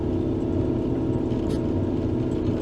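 A snow plow truck engine runs in the mountains with a steady low hum and rumble, close and continuous, with no talk over it.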